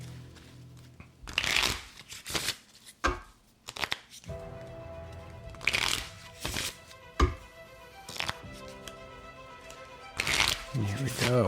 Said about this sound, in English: We go right back into shuffling mode because we just pulled the Joker.